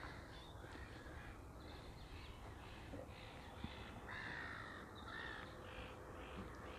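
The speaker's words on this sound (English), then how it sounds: "Got a few more seagulls now, I don't know if you can hear them." Faint, distant seagull calls come and go over a steady outdoor background hiss, with no voices, at a carp fishery in winter.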